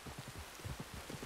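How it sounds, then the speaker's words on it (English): Rain falls steadily in the video game Red Dead Redemption 2, a soft, continuous patter of drops on the ground with faint low thuds scattered through it. "You were right about the damn rain."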